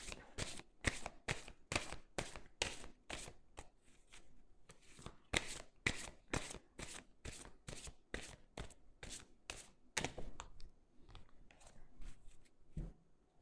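Tarot cards being shuffled in fast, crisp riffling bursts, a steady run of sharp flutters and slaps close up with short pauses, no voice.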